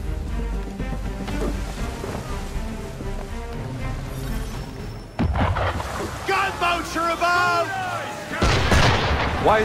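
Heavy ship cannon fire in the Assassin's Creed 3 video game, with deep booming blasts rumbling over a game soundtrack and voices talking throughout, louder hits after the midpoint and near the end.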